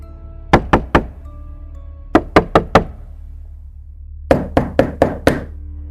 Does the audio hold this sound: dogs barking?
no